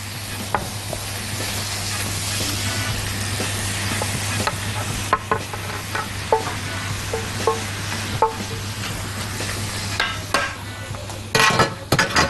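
Beef cubes fry on a bed of onions in a pot, making a steady, moderate sizzle for about twelve seconds. Occasional spoon clanks and scrapes against the pot grow busier near the end, and no one speaks.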